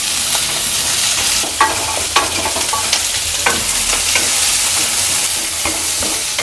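Shallots, garlic and dried red chillies sauté in hot oil with a loud, dense, continuous sizzle, overlaid by frequent clicking stirring strokes close by, no speech.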